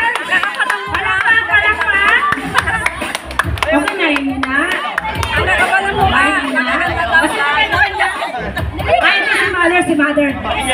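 Seniors at a Christmas party burst into bursts of clapping amid lively chatter and laughter, with a host talking over the crowd in a busy indoor room.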